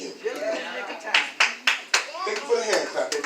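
Hand clapping at a church service: several sharp claps spaced about a quarter second apart, close and clear, under a preacher's speech.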